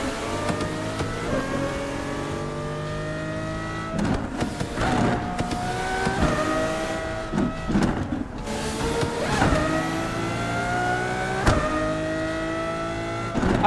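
In a driving video game, a car engine revs continuously, its pitch repeatedly rising through gears and dropping off, loud and steady with no voices over it.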